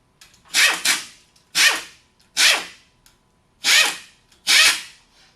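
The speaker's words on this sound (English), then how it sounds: "I'm going to use an impact to get them down." An impact wrench snugs down the rear head bolts on a Sanden-style A/C compressor, firing five or six short separate bursts, each a sharp rising rattle about half a second long, loud and close with gaps between.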